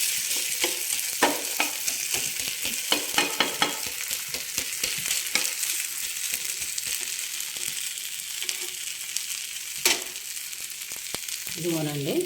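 Onion, green chili and cumin seeds frying in a pan for a roasted-gram chutney, a soft continuous sizzle under scattered scrapes and taps of stirring, fairly close with no talk.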